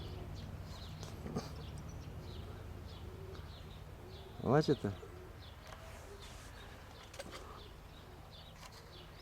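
A short, soft pigeon coo bubbles up midway, close by, while a person speaks briefly amid faint outdoor background noise.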